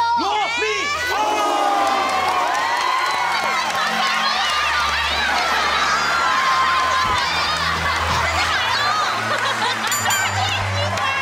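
A studio audience at a comedy variety show roars to welcome a performer dressed as Romeo, with loud continuous cheering, shouting and laughter. Distinct clapping is hard to pick out in the din.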